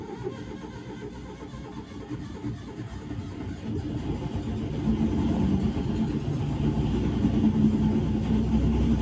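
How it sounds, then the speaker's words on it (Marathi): A car engine runs near the microphone, idling at first and then revving up steadily louder over several seconds into a sustained mid-pitched drone. "आता बघूया गाडी स्टार्ट होतीये का"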